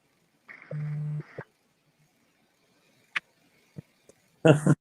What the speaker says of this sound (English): Somebody's trying to call me.